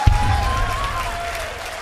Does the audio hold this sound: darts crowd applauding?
yes